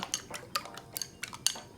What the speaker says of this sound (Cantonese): 拍蛋